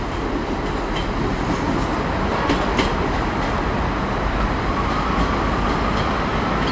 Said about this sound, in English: in comes the 1539 East Midlands train service to Norwich